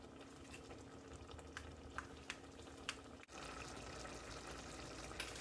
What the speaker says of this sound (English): Okay, I have a nice boil